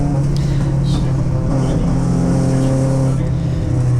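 MG Triumph racing car driving on a track at a motorsport event, a loud steady engine drone close by with no pause for the whole stretch.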